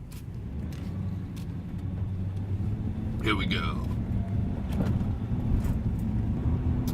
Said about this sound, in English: Bunch of trucks and cars.